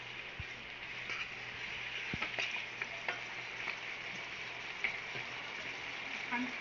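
Chicken and garlic sautéing in a pan for Filipino chicken tinola, with a steady bright sizzle close by and scattered scraping and clinking from stirring, quiet and unbroken by talk.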